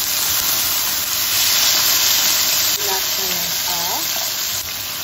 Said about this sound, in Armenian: մի փոքր տապակում ենք լոլիկը